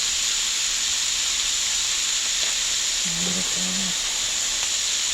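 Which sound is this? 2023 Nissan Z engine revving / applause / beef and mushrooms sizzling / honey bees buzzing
beef and mushrooms sizzling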